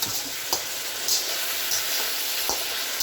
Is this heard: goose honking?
no